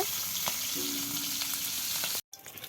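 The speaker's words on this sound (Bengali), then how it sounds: "ওদিকে মাছ ভাজি করা হচ্ছে" Katla fish fries in hot oil in a village kitchen, a close, steady crackling sizzle that cuts out abruptly near the end, then returns more faintly.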